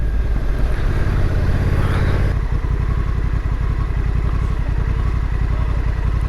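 A Honda NT1100 motorcycle engine runs loud and close, a steady rumbling drone with a rapid pulsing beat that holds throughout, with no talk over it.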